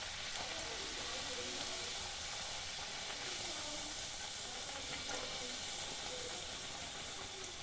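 Puris (luchis) deep-frying in hot oil, a steady dense hiss and crackle of bubbling oil running unbroken and fairly close throughout.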